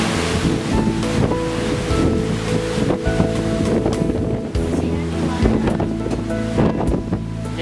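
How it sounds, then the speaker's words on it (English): Strong wind buffets the microphone on an open cruise ship deck above the ocean, with waves and surf rushing beneath, loud and continuous. "Oh, it's windy out here."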